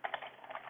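Quick keystrokes on a computer keyboard, a short run of soft rapid taps, close and fairly quiet, with no voices.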